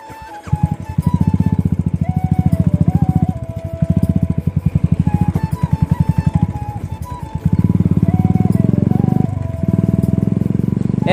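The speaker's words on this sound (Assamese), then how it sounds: "এয়া এতিয়া মই চলাই আছোঁ বুলেটখন মটকা খুলি থোৱা পিছফালে একদম পুৰা" Royal Enfield Bullet motorcycle ridden with its silencer removed, a loud, close, uneven thumping exhaust throb that pulses and rises in bursts as the throttle opens and eases.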